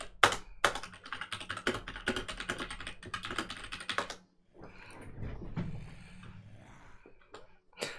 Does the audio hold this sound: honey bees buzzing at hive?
no